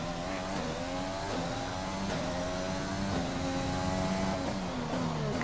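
An AlphaTauri Honda Formula 1 car in F1 2020 pulls out of the pit lane, its engine whining loud and close and stepping up through the gears without a break.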